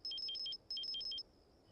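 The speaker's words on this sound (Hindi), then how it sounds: "फोन आ रहा है उसका।" A mobile phone rings for an incoming call: two bursts of a repeating electronic trill, each about half a second, separated by a short pause, clear and fairly close with no talking.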